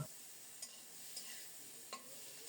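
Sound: prawns frying in oil

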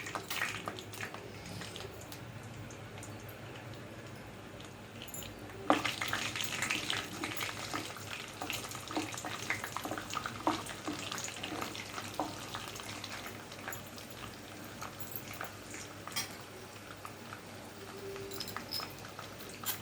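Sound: urad dal frying in hot oil

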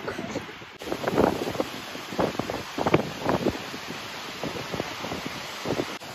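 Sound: waterfall rushing in wind, Iceland

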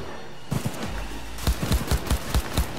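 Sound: gunshots in video game Cyberpunk 2077

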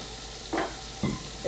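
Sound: food sizzling in skillet

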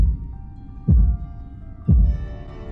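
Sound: heartbeat sound effect in video game Tormented Souls

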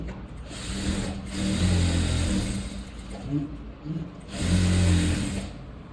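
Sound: sewing machine stitching a designer blouse

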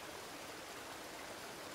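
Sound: soft splashing water in a creek

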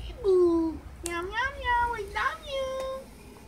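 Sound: cat meowing

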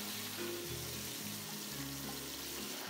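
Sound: stir-frying Pixian chili bean paste and hotpot base in lard

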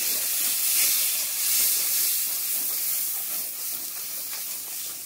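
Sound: stirring turmeric and chili powder into frying vegetables

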